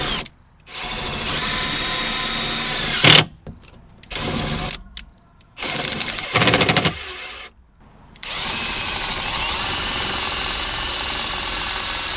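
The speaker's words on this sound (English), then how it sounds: "I'm just gonna use 2 to 3 self stoppers and just screw it into here" A power drill drives self-tapping screws into a truck bed in several loud bursts of whirring, separated by short pauses, with a stretch of steady tool noise at the end.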